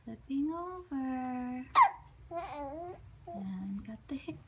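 A baby works hard at rolling over, babbling and straining with voiced coos and a sharp hiccup-like gasp in the middle, all close and fairly loud.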